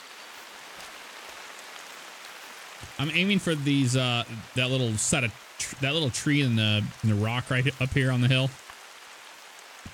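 Steady rain hisses across the outdoor landscape of the hunting game theHunter: Call of the Wild, a soft, even patter that continues under someone talking close to the microphone.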